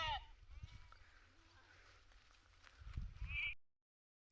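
Sheep with no water available bleat in a rough, wavering chorus amid outdoor background noise, with a louder bleat near the end before sudden silence.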